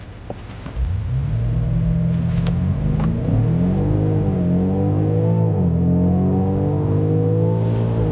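In a BMW M5 versus Zeekr 8X drag race, a car launches and accelerates hard, its engine note rising through gears in a loud, sustained roar with brief dips at the shifts.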